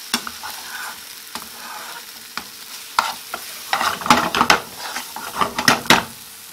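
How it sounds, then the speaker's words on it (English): Egg cooking in curry over high heat, with a loud close sizzle and repeated utensil knocks and scrapes against the pan that grow busier toward the end. "Mix the egg into the curry and let it cook."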